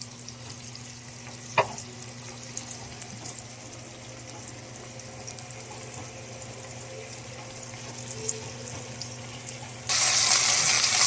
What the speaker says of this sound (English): This is what the frying looks like so far.